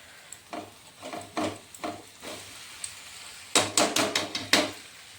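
Potato and flour pasta pieces stirred in a pan at home, with a spoon scraping and clattering in a slow run of strokes, then a faster, louder burst of scrapes near the end.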